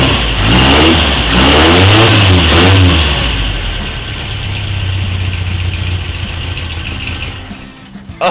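A Toyota truck engine, just repaired, revs loudly in rising and falling surges, then settles into a steady, close idle.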